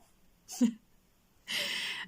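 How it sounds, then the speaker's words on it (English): A sleeping dog gives a short, muffled low woof, then after a pause a longer breathy huff, both soft and close. "He's dream woofing."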